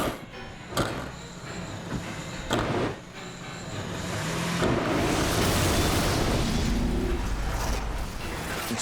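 A stunt performer is set alight by a flamethrower on a film set: a low roaring whoosh of flame swells and holds steady, preceded by a few sharp knocks and mechanical clatters.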